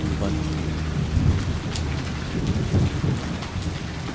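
Heavy rain pours steadily in rural Sindh, with low rumbles of thunder rolling underneath the dense, constant hiss.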